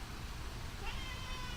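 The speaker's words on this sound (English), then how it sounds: "Yeah, you're a cat." A house cat meows indoors, a short, moderately close call over a low background hum.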